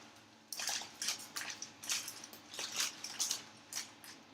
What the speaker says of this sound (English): This is going to be the slowest pouring thing in the world.